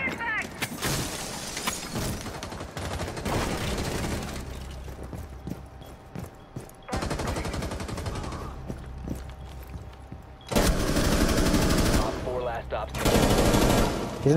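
Rapid automatic gunfire from the video game Rainbow Six Siege rattles in repeated bursts, loud and close, with heavier volleys in the later seconds and game sounds between.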